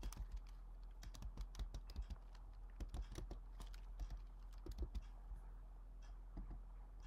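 Quick bursts of computer keyboard typing while entering a secret name, with close, crisp key clicks in rapid, uneven runs and short pauses, fairly quiet.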